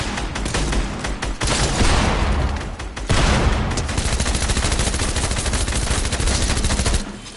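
Sustained automatic gunfire in a Fortnite No Build trios match rattles loud and close in rapid continuous bursts, nearly unbroken for several seconds with a brief pause near the middle.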